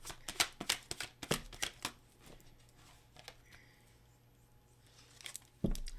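Tarot cards shuffled and flicked down in a rapid burst of crisp riffling snaps, then a quieter stretch with a few soft slides and taps, ending on one louder card slap.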